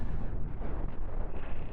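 A spaceship under gunfire in the video game Cosmoteer gives off a continuous heavy, roaring rumble. Dull explosive thuds repeat close and loud, with no voices.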